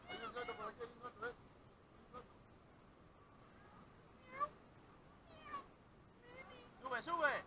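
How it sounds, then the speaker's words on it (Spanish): A cat meows at a football match, several faint mews scattered across the stretch amid distant voices, quiet overall with a louder burst of sound at the end. "Hay un gato por aquí, hay un gato"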